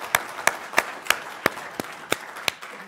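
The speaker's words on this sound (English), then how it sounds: "we can clap for the students here, that's great" A few audience members at a keynote address clap slowly and evenly, about eight distinct claps spaced roughly a third of a second apart, with no voices.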